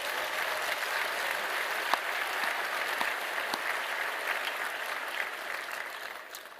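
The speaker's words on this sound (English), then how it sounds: "Another round of applause for our great friend." Crowd at the Heritage Foundation's 50th anniversary event applauding a guest in a large hall, sustained even clapping with a few louder individual claps, fading slightly toward the end.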